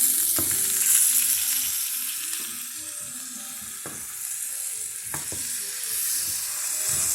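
Large steaks sizzling steadily in a hot pan as they are turned over, a continuous bright frying hiss with a few soft knocks and scrapes from the turning, close and fairly loud with no talking.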